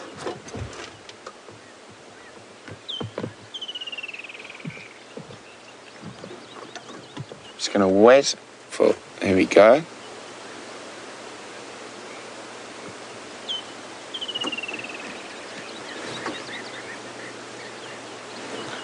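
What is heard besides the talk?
birds calling at Djuma Game Reserve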